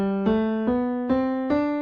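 A melodic phrase in the Lydian mode played as four clear, evenly spaced sustained notes stepping upward, each with a soft attack and ringing tone, heard alone and fairly quiet.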